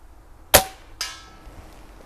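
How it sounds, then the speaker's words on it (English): Crosman Pumpmaster 760 air rifle firing a Norma wadcutter pellet at a 50-yard target, one sharp close crack followed half a second later by a fainter distant impact snap, in quiet outdoor surroundings. "We're going to fire at that 50 yard one up there, and I've got a Norma wad cutter pellet"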